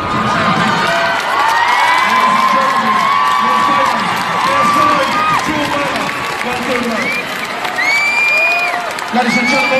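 A large boxing arena crowd at a KSI versus Joe Weller fight roars with sustained cheering, whoops and applause, loud and continuous throughout, with voices shouting within the mass of noise.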